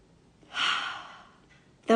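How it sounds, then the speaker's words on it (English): A single slow, deep breath drawn in and let out during a guided breathing moment, a soft airy rush swelling then fading, followed by a brief louder sound at the end. "Let's take one more deep breath in, everybody."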